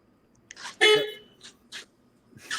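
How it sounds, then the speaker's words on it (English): A car horn sounds from a garage in a few short honks, one longer and louder blast followed by briefer toots, fairly faint and slightly distant. "the horn of his car"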